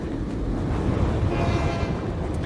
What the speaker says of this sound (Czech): Fuck jde vlak!